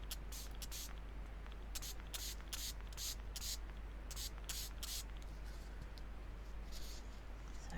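Bursts of spray from a spray bottle misting colour onto a card, about a dozen short hissing puffs in an irregular rhythm, close and fairly quiet over a steady low hum.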